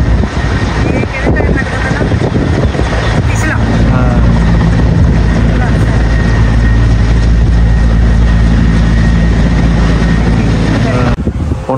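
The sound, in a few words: helicopter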